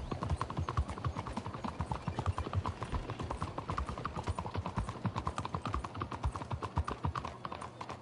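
A horse's hooves clip-clop steadily and continuously in Red Dead Redemption 2, a dense, close rhythm of hoofbeats over a low rumbling background.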